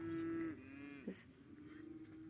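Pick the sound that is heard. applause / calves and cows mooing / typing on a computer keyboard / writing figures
calves and cows mooing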